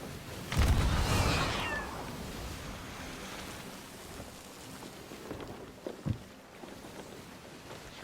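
A pet cat meows in the Sea of Thieves pirate game, one short cry near the start over a steady wash of ocean waves and wind, with a few soft knocks later.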